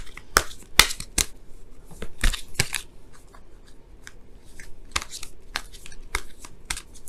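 Tarot cards are shuffled in sharp, crisp riffles and flicks, irregular bursts of close papery snapping with quiet pauses between them.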